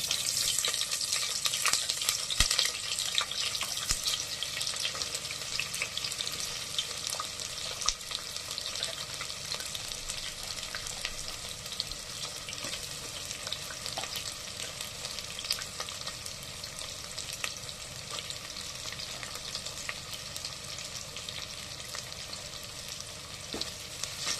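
Green chilies and onion fry in a pan while cooking ghee rice, a steady close sizzle running throughout with occasional clicks and stirring sounds and no talking.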